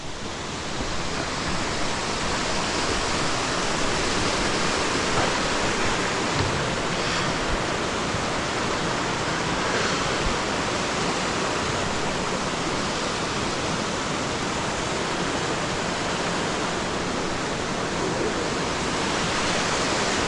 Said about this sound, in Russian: Сейчас покажу вам водопадик. Мощный. Ну как, не мощный, но льет нормально.